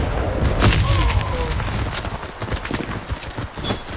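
Loud, booming grenade blast in the online shooter Warface, a dense burst of impact noise with scattered thuds and crackles following through the whole moment.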